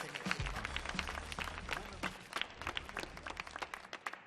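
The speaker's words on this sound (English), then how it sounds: "Clap one more time for my man" Audience applause for a performer at a troupe show on the Millennium Stage, a dense spread of claps with sharp individual hits over low rumble and some crowd murmur.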